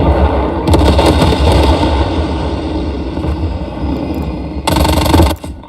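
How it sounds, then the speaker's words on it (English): Napalm strike explosions from a military shooter video game roar as a dense, continuous wall of blasts and crackling fire, loud and sustained, with a fresh burst near the end before cutting off. "Enemy napalm strike incoming."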